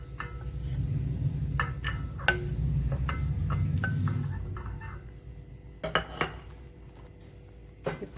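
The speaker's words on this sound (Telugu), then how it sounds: "ఇవి వేగినాయండి, వేరే బౌల్లోకి తీసేస్తున్నాను." Roasted lentils being tipped into another bowl, with metal spoon scrapes and clinks against cookware over a steady low hiss, and a few louder knocks near the end.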